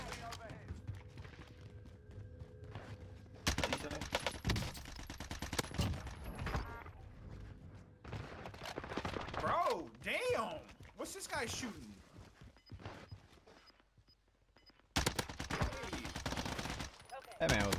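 An AS Val fires in rapid automatic bursts during a Warzone firefight. The loud volleys come in several separate stretches, and players talk over and between them.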